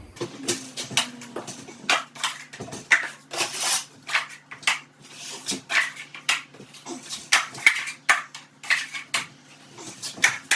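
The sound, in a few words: drywall taping knife spreading joint compound mud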